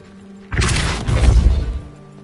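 A Depulso spell in Hogwarts Legacy blasts apart a pile of debris blocking a stairwell: a sudden loud burst with a rushing whoosh, followed by a rumbling, crunching crash of tumbling rubble that fades over about a second and a half.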